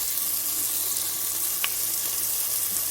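Chopped tomatoes frying in a pan with boneless chicken varuval, giving a steady, close sizzle with a brief sharper crackle midway and no voices.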